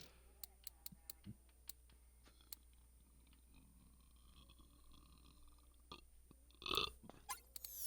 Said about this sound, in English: Oh, excuse me for just cooking that burp.